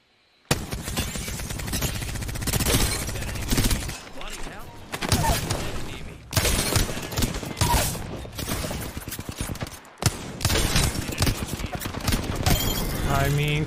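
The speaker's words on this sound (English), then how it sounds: "They're shooting at me." Apex Legends gunfire erupts in loud, dense volleys of rapid automatic shots. The stretches of fire are broken by brief lulls and a few sharp impacts.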